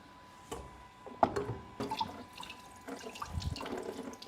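Water from a kitchen tap running over a butterfly whisk attachment as it is rinsed, with splashing, clinks and gurgles rising toward the end, close and moderately quiet.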